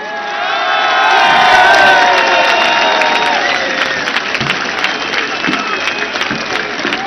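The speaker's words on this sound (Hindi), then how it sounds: "हाथ उठाकर तालियों की गूंज में बताइए कितना प्यार करते हैं आप इमरान खान से" A large crowd at a political rally applauding and cheering, loud and sustained, with whoops and shouts over dense clapping that stays strong throughout.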